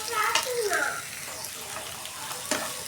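Onions frying for birista give a soft, continuous sizzle in the pan, with brief murmurs of voice near the start and a faint clink late on.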